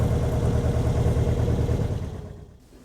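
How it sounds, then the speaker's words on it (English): A six-cylinder Vauxhall gasoline engine taken from a wrecked car runs with a loud, steady low rumble in a small shipyard, then fades away toward the end. "This is a 6-cylinder Vauxhall gas engine out of a wrecked car. And it runs in second gear."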